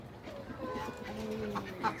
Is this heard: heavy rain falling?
no